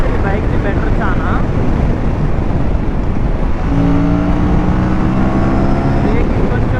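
Aprilia RS 457 and GT 650 motorcycles race past: a loud, wind-buffeted engine drone whose pitch climbs and then holds as a strong tone in the second half, close and sustained.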